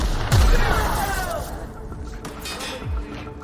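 Gunfire in The Outer Worlds shooter game, a burst of booming shots at the start with a few later thuds under a dense bed of combat noise and faint voices.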